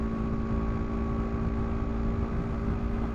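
BMW G310 GS single-cylinder motorcycle at 70 mph on a motorway, engine spinning near 6,800 RPM: a steady, dense drone of engine hum and wind rush, constant and unbroken throughout.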